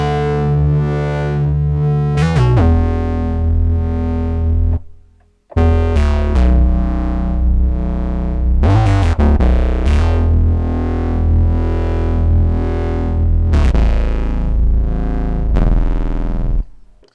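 Softube Modular synth patch with a Vangelis-like character, drenched in reverb: sustained, loud evolving tones with swelling chords, a brief drop to silence near the start, then continuous lush pad-like sound with occasional bright transient attacks.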